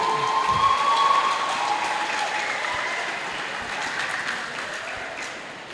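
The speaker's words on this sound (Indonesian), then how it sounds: "Boleh berikan tepuk tangan yang meriah." An audience gives hearty applause during a visit by the education minister, dense clapping that starts strong and slowly fades over several seconds.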